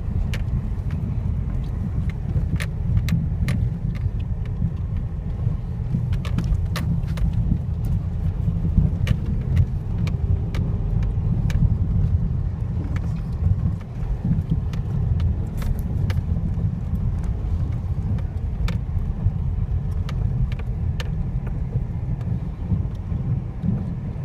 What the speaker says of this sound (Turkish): Test sürüşü başladı.